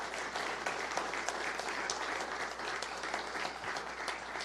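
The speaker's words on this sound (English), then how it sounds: "Big round of applause." Sustained applause from an audience at a university athletics giving-week kickoff, honoring a national champion wrestler; steady, dense clapping throughout without pause.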